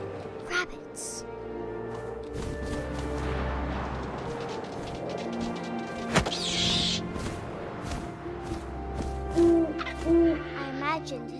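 An owl hoots in What Remains of Edith Finch, soft and tonal, over a narrator talking throughout, with wind-like ambience, a sharp thud midway and game music underneath.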